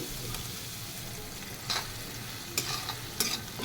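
Onion frying with asafoetida in a pan, a faint steady sizzle with a few soft stirring scrapes breaking through, no voices.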